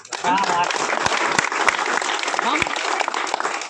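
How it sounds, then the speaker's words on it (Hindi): Scattered audience clapping at a political gathering mixes with voices, with a few sharp isolated claps standing out from the crowd noise over several seconds. "बोलने में और ताली में कोई जीएसटी नहीं है, बजनी चाहिए और आवाज भी आनी चाहिए।"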